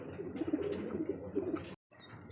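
Pigeons coo steadily in a pigeon farm, a close run of soft rolling coos with faint chirps, broken by a brief silence before the cooing resumes quietly.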